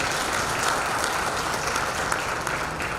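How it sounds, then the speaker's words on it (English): Steady applause from an audience at a steel-sector consumers' meet, a dense even wash of clapping that holds at a constant level for the full few seconds with no talk over it. "A big round of applause for him as well."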